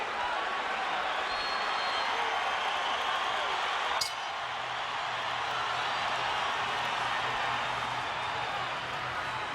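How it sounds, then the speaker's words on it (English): A crowd roars steadily at a boxing arena during the De La Hoya versus Quartey world welterweight title fight. The noise is a dense, far-off wash that keeps going with no break. "Crowd cheers as we get past the midpoint of the fight."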